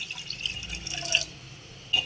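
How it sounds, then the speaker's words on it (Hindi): Half a cup of water poured into boiled milk heating again on the stove for tea, heard as close, faint dripping and trickling splashes with a brief louder splash at the end, no voices. "इसे दोबारा उबाल आने के लिए रख दिया है और इसमें 1/2 कप पानी का शामिल करेंगे"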